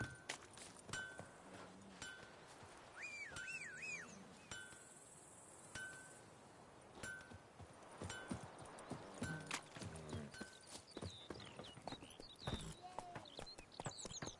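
Horse hooves clip-clop steadily as a mount is ridden in a Witcher video game, a rhythmic close trot with occasional whinnies, faint insects and soft game effects in the background.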